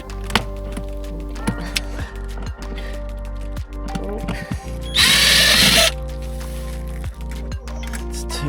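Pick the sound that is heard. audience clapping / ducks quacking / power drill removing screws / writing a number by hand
power drill removing screws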